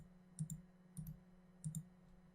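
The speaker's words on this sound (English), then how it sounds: "we want to click at the top and then right click and copy this" A computer mouse clicks in three quick double-click pairs spaced about half a second apart, crisp and close against a quiet low hum, with no talking.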